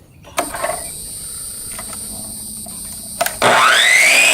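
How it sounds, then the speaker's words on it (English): A power drill drives 1 1/4 inch screws into wooden boards, with a short whirring burst, a brief click, then a longer steady high motor whine rising in pitch, close up. "And then I'm going to flip this whole thing upside down and screw it in from the back."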